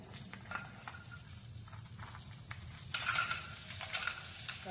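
Cashews dry-roasting in butter in a pan for kaju masala, a soft steady sizzle with scraping stirs, louder toward the end, no talking.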